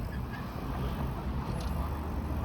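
Pigeons on Sherbourne Street in Toronto's Upper Jarvis neighbourhood give low, soft calls buried in a steady wash of city traffic noise.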